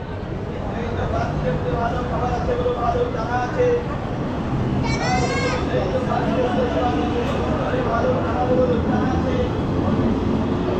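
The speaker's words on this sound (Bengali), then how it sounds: "এই বেরিয়ে গেল আমাদের ট্রেন।" A departing train rumbles steadily throughout, with a brief rising squeal partway through and people talking over the noise.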